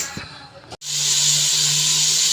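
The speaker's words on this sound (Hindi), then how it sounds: "हमारा चिकन अभी अच्छे से भून रहा है।" Chicken for green karahi sizzles in a pan, suddenly becoming a loud, steady hiss that holds strongly to the end after a brief quieter, voice-like opening.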